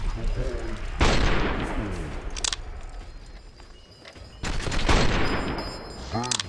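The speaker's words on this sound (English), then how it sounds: "I guess I have to be kind of precise with my shots here" Gunfire in Fallout New Vegas, modded, with two sharp shots standing out over a busy, rumbling game soundscape full of distant shooting, with no talking.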